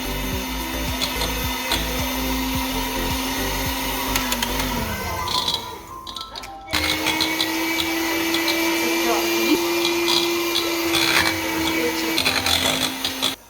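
An electric hand mixer whips egg whites for tiramisu in a home kitchen, a steady motor whine that cuts out midway and then starts again, running close and loud.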